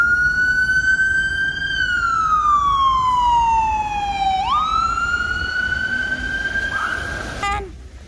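A wailing ambulance siren on a road sweeps slowly down and back up in pitch as it passes, loud and continuous, cutting off abruptly near the end.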